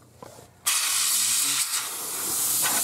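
Canned air blasts dust out of a dusty home server computer in one sudden loud, sustained hiss lasting about two seconds, following a few faint clicks.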